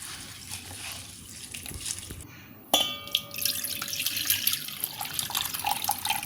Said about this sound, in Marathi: 2-3 वेळा पाण्याने चांगलं स्वच्छ धुवून घ्यायचं आपण